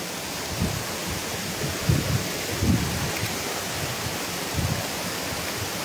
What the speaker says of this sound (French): Donc voilà la cascade de la Queue de Cheval.